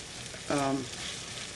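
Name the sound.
onions being cooked and stirred in a pan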